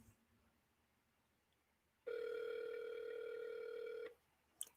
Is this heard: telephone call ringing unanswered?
yes